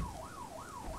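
An ambulance siren in the video game Arma 3 wails in a fast, repeating up-and-down sweep, steady and fairly loud for the whole moment, with no talking.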